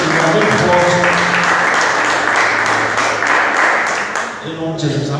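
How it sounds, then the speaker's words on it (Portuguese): Church congregation applauding loudly during a service, a dense sustained wash of clapping with tonal music or voices beneath it, easing off near the end. "Aplauda o Senhor Jesus no seu lugar bem forte"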